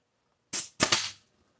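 A staple gun fires staples in two or three sharp, close snaps in quick succession, standing alone against near silence.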